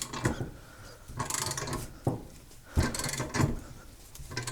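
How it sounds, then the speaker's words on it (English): A regular half-inch drive ratchet clicks in short repeated bursts while pressing an upper control arm bushing into place, close and crisp, with pauses between strokes. "I'm just using a regular half-inch drive ratchet"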